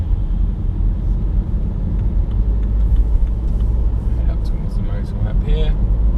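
A 2016 BMW 320d ED Efficient Dynamics diesel saloon rolls along at slow speed, its low engine and road rumble steady and close throughout, with faint higher clicks and a voice speaking briefly near the end.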